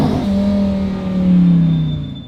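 A 1,000-horsepower manual Lamborghini engine revs sharply on a downshift, a loud close blip that swells then settles into a sustained drone and fades.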